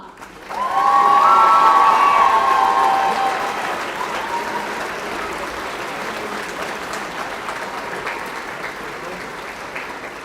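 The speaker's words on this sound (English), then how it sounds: "One last big round of applause." An audience at a school awards evening breaks into a loud round of applause that swells quickly and then settles into steady, sustained clapping with a few cheers mixed in.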